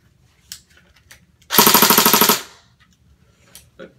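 Cyma AK-47 electric blowback airsoft gun fires one loud, rapid burst of about a dozen shots lasting under a second, with quiet clicks and handling before and after.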